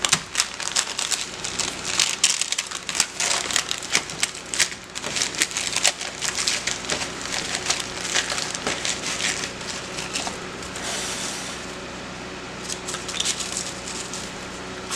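Himalayan pink salt bath brittle mixture gets pressed down with parchment paper, giving close, continuous crunching and crinkling with gritty scraping throughout.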